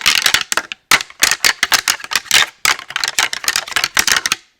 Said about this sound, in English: You're getting a lot more tine-to-tine sound when you do it that way.